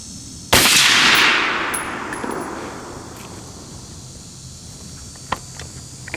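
A single loud, close rifle shot from a Rock River Arms 6.5 Creedmoor cracks sharply and rolls into a long fading echo across the range, followed by quiet background with a faint click.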